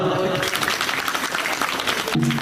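Applause from a live audience at a Marathi motivational talk about Independence Day flag hoisting, a dense steady clatter of clapping filling the clip, with voices briefly audible at the start and end.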